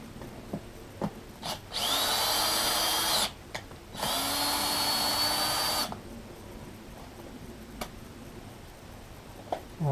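Power drill with a Torx bit running screws through paint-clogged holes on Mondeo Mk3 front seat parts, two sustained whirring bursts of about one and a half seconds each, close and loud, separated by a pause with small clicks and handling noise.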